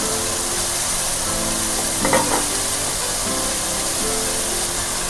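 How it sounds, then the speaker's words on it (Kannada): Steady loud sizzle of dill and coriander leaves frying with onion and tomato in a pan, with a brief scrape of stirring midway, no voices. "ಸೊಪ್ಪನ್ನ ಚೆನ್ನಾಗಿ ಫ್ರೈ ಮಾಡ್ಕೋಬೇಕು"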